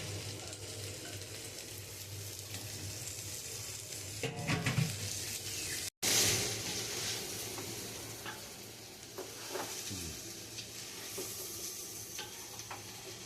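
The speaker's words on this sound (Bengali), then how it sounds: "আমার খিচুড়ি প্রায় হয়ে কষানো হয়ে গেছে।" Khichuri sautéing in a pan in a home kitchen, a steady close sizzle and frying hiss with scraping stirs against the pan and occasional clinks, continuous throughout.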